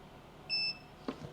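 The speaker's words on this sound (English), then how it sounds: "and it beeps" A DJI Power 1000 portable power station gives a single clear electronic beep, a steady tone of about a fifth of a second, in an otherwise quiet room, followed by a faint click from handling.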